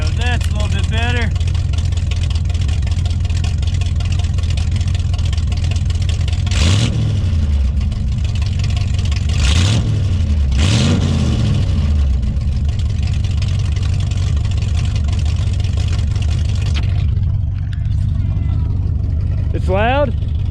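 Truck engine with an axle dump exhaust idling loudly and rumbling close by, with several short rising revs through the middle, while people talk over it.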